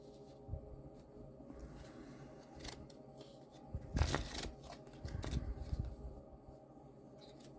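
Soft riffling and shuffling of tarot cards, a few brief bursts of papery rustle at a quiet level with low background rumble.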